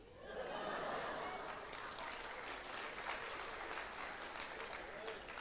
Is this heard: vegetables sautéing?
no